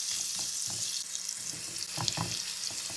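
Chopped peppers and onions fry in oil, a continuous hissing sizzle broken by intermittent stirring scrapes and clatter close by, with no talking.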